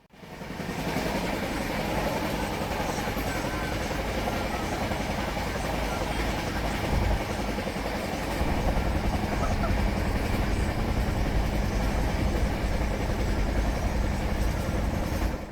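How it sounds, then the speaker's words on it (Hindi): Passenger train running on rails, a loud, continuous rumbling roar heard from nearby that grows heavier partway through, with faint talk mixed in. "तो हमारी जो ट्रेन थी वो थी रात 8 बजे"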